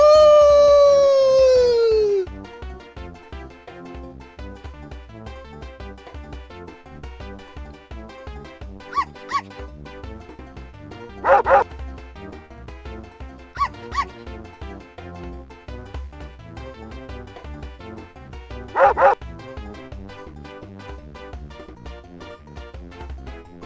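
A dog gives a long rising howl at the start, then a steady musical backing carries on with a few short, sharp yips or barks breaking through at intervals.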